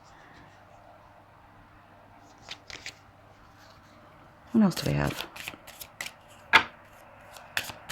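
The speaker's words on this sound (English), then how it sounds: "These don't shuffle all that well." A deck of tarot cards is shuffled in several quick, crisp riffling bursts, close and fairly loud, with a voice speaking briefly beforehand.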